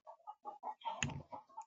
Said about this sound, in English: Sorry about the noise in the background. I have some chicken.